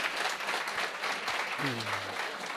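Audience at a youth panel discussion on post-election issues gives the panelists a round of applause, an even sustained wash of clapping with a brief low tonal sound near the end.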